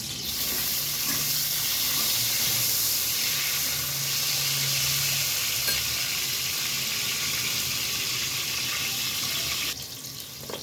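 Tomatoes go into a hot pan of browned, sautéed bitter gourd for a Filipino stir-fry with glass noodles, giving a steady, loud hiss and sizzle that runs throughout and drops slightly near the end, with no talking.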